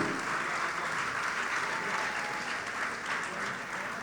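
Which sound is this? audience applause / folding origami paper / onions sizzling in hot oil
audience applause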